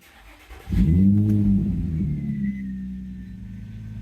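A 2008 Infiniti FX35 cranks briefly and fires up, its engine flaring into a loud rev before settling to a steady, lower idle hum. The car is close by, and the idle rumble continues alone.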